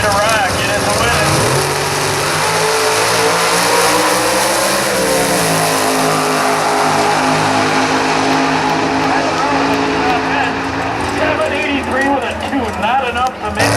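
Drag racing cars revving engines at the start line, loud rising and falling engine roar with a crowd and an announcer talking over it throughout.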